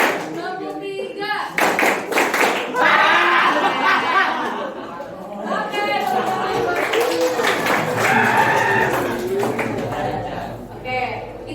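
A class of students claps on a teacher's command in a three-clap pattern. A ragged cluster of claps early on is followed by lively chatter and laughter from the room, with talking throughout.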